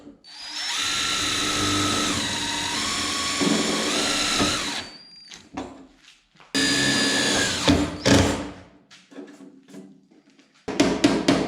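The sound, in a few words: power drill screwing a panel onto a Volkswagen Transporter rear door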